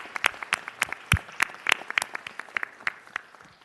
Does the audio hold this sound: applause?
yes